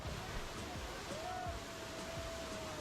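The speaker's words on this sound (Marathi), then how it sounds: "इतर धबधब्यांच्या तुलनेने हा धबधबा छोटासा आणि सुरक्षित आहे" Steady broadband rushing of a small waterfall near Malanggad and Tahuli fort, Kalyan, fills the clip, with a faint tonal whine drifting through the middle.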